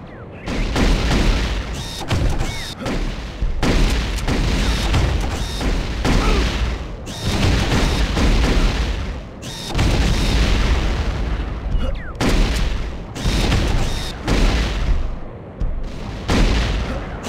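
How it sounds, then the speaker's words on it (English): Grenade launcher explosions from a video game boom repeatedly in heavy, evenly spaced bursts with short pauses between, loud and close throughout. "grenade launcher"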